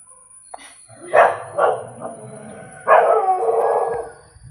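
A nearby dog barks at a postman, a few loud, drawn-out barks with a howling edge, spaced apart in a quiet setting.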